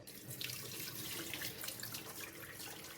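Cloudy rinse water draining off anchovies at a kitchen sink, a steady splashing, faucet-like stream running for a few seconds, moderately faint and close, with no voices.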